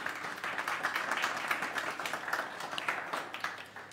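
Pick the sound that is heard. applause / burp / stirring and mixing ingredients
applause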